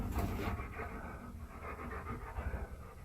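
A dog panting inside a cave, quick rhythmic breaths close by and moderately loud, repeating steadily over a few seconds without talk.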